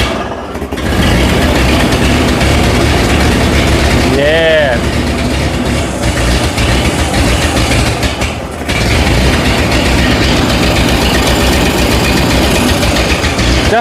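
An abandoned old Ford 8N tractor engine runs steadily on choke, a loud continuous low rumble filling the whole stretch, with a brief dip and a short rising whine partway through.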